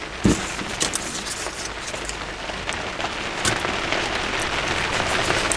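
Rain falls steadily in southwest Scotland, a continuous close patter with sharper individual drops striking a surface now and then, and no one talking over it.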